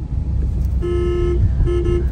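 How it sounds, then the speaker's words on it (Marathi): A 2025 Tiago NRG CNG AMT car horn sounds twice, a longer blast then a shorter one, loud and close over a low engine rumble. "Horn is awesome."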